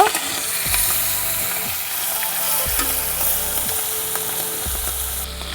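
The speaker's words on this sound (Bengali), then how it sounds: "মাছটা সামান্য ভেজে নেব।" Prawns frying in hot oil in a pan for a prawn malai curry, a steady loud sizzle throughout with repeated low clatters of stirring or the pan being moved, no voices.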